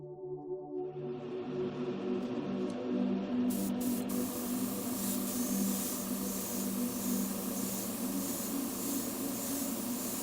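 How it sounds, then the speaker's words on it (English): An airbrush sprays very light tan, thinned paint onto a small cluster of buttons on a 1:1 MPC Space:1999 Commlock model: a continuous close hiss that starts after a moment of quiet and holds steady over a low hum. "sprayed the very light tan color on that little cluster of 4 buttons"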